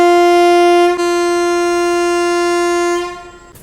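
The Ranikhet Express sounds a loud, sustained horn as it departs Rudrapur City railway station. The steady blast dips briefly about a second in, resumes, then fades out after roughly three seconds.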